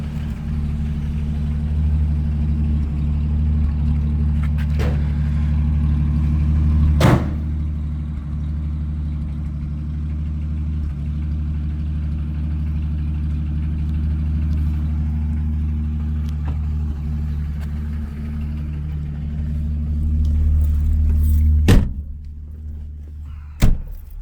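The straight-six engine of a 1941 Studebaker Commander Cruising Sedan runs at a steady, close idle with a low hum, broken by a few sharp knocks like doors closing and a slight rise near the end.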